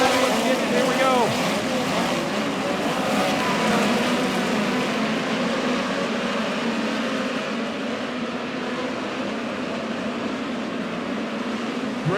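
Midget race cars roaring around the Lake Ozark Speedway dirt oval during a POWRi National Midget League race, a loud sustained engine drone rising as the field accelerates, with a race announcer talking over it.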